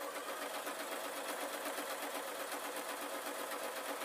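A sewing machine stitches satin fabric for an orange, lacy Halloween dress. It runs as a steady, close, rapid mechanical whir and needle clatter without a break, and nobody speaks.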